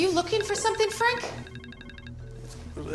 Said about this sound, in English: it's music coming from my personal phone.